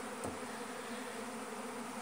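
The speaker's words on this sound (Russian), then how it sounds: "У нас начинается первое роение пчел сегодня." Swarming honeybees leaving a hive in Siberia make a dense, steady buzzing hum that holds evenly throughout, close and moderately loud, with no voices.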